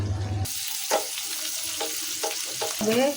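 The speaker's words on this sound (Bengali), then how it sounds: "আপনার তেলও কম লাগবে আবার বেগুনটা ভাজাও সুন্দরভাবে হয়ে যায়" Eggplant slices fry in oil in a pan beside vegetables, a steady loud sizzle with a few scraping stir sounds and clinks over it, close and with no talk.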